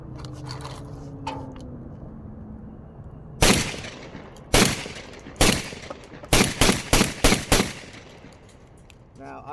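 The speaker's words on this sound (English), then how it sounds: "I'm going to shoot them side by side, and I'm going to start with this one" Beretta 1301 Tactical Mod 2 and Beretta A300 shotguns fired outdoors, beginning with three separate sharp blasts and then a quick string of five closely spaced shots, after a stretch of quiet background with a faint earlier voice.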